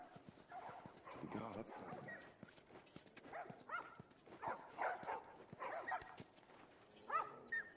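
Dogs bark and yip in The Last of Us Part 1, several short barks scattered across the scene under and between talking voices.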